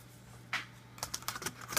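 A new keyboard being laid into a Dell Latitude E6410 laptop: a single light plastic tap, then a quick run of clicks and taps as it settles in place, close and quiet.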